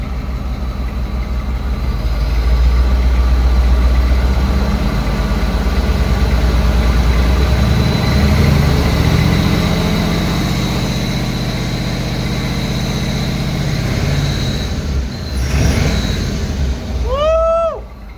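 A Ford Bronco's freshly swapped engine idles steadily and fairly loud for a long stretch, with a brief rise near the end and a short chirping squeal at the very finish.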